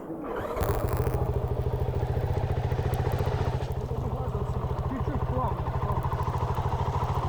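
Enduro motorcycle at an off-road competition pulling out slowly through sand at low revs, a steady close engine thump running throughout with a faint clatter on top.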